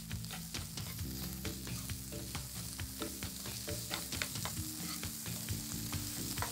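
Sliced mushrooms dusted with flour fry in butter in a pan, giving a dense, steady sizzle and crackle with frequent small pops and occasional stirring scrapes, loud and close, with no voices.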